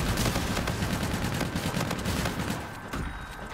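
Rapid automatic gunfire from a video game rattles in a dense, loud burst for most of the clip, then eases off into a few scattered shots near the end.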